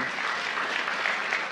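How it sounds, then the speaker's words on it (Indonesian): A church congregation claps for God during a sermon, a dense, continuous burst of applause from a large crowd, fairly loud and even throughout with no talking. "Tepuk tangan buat Tuhan."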